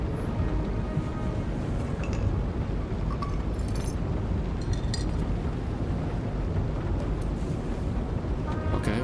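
A jet car in Nobody Wants to Die gives off a dense, continuous engine roar that stays even from start to finish, with faint metallic ticks above it. There is no talk.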